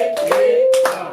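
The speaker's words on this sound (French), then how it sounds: "Applaudissons!" Applause from an audience at a church celebration of the Malaki feast, a brief burst of hand claps mixed with a sustained singing or chanting voice, loud and close.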